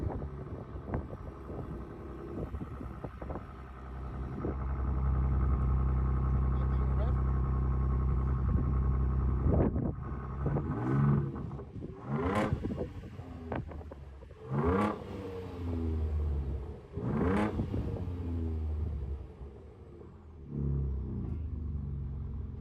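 Deep rumble of a pre-production Ford Ranger Raptor engine idling at the rear, then several sharp revs blipping up and falling back, heard close under wind buffeting on the microphone.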